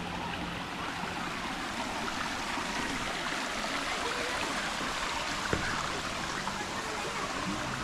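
Steady broadband rush of stream water flowing continuously at a natural spring in Panabo City, close and even throughout with no talk over it.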